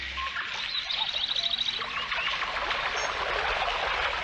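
Birds chirping in a cartoon nature scene, with a quick series of high tweets early on and then a continuous bright chatter of calls over a soft ambient wash, fairly close and steady.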